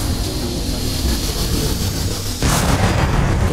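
Grenade explosion in Starfield, a loud sustained roaring blast layered over dense battle noise, jumping louder partway through, with no talk.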